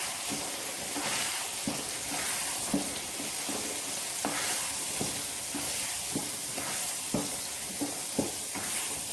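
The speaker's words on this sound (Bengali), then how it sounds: "এবার বিউলির ডালের সঙ্গে এটাকে ভালো করে মিশিয়ে নিতে হবে।" Kochuri filling mixed with sticky biuli dal is stirred in a pan, with regular scraping strokes of a spoon over a soft, continuous sizzle, close and moderately quiet.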